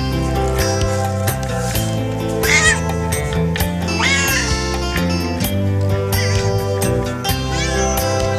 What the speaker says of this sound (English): Just a cat going around meowing.